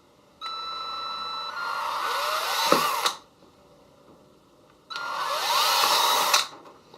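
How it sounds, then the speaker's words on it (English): A power drill boring holes with a number 29 bit, two whirring bursts of about two and a half and one and a half seconds, close and fairly loud, separated by a quiet pause. "I'm going to use my number 29 drill bit"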